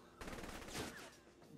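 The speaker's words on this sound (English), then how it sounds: "These guards are packing military grade gunfire." A burst of rapid military gunfire from the video game Saints Row: The Third, a dense rattling volley lasting about a second, with faint game noise before and after.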